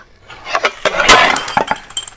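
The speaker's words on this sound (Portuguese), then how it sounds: "eu quebrei um prato tão bonito" A pretty ceramic plate breaks in a kitchen, a sharp crash with clinking shards and a few scattered follow-up clinks, close and loud.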